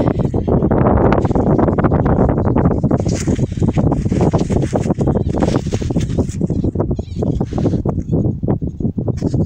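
Heavy wind buffeting the microphone, a loud continuous rumbling roar with gusty fluctuations throughout, no clear voices.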